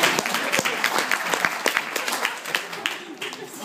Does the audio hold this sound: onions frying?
no